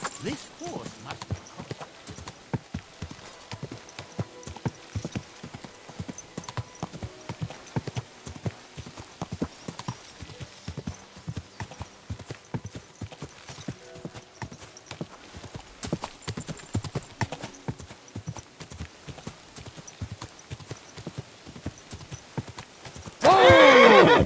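Horse hooves clip-clopping in a steady gait with whinnying in the Kingdom Come: Deliverance II video game, the beats close and continuous under intermittent talk, ending in a sudden louder burst.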